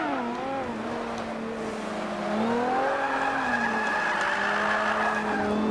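A KTM X-Bow race car in the Forza Motorsport 5 racing game skids, its tires squealing with a wavering pitch over a steady engine drone, loud and sustained throughout.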